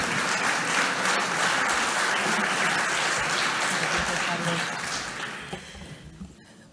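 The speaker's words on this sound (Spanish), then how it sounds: "Un aplauso. Adelante, presidenta." Sustained audience applause welcoming Concha Andreu, president of the Government of La Rioja, at the opening of the XII Jornadas Futuro en Español, dense and steady before thinning out near the end.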